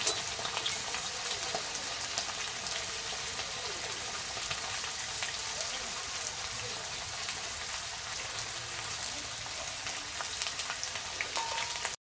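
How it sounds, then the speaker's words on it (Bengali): Cut potatoes fry in the same oil used for paneer, giving a steady, moderately quiet crackling sizzle like light rain, continuous and even throughout without speech. "ওই তেলেই আমরা ভেজে নিচ্ছি আলু"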